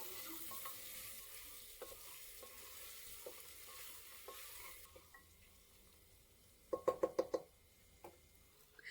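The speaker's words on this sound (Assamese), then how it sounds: "আটাইখিনি ভালদৰে অলপ সময় ভাজি ল'ম 2 মিনিটৰ বাবে" Carrots, peas and other vegetables sizzle and fry steadily in a pan, with a few sharp knocks of a spoon against the pan near the end.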